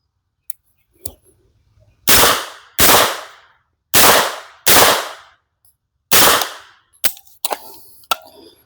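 A DG-9 airsoft gun fires six sharp, loud reports at roughly even spacing, each with a short decaying tail, preceded by a couple of small clicks and followed by quicker handling clatter.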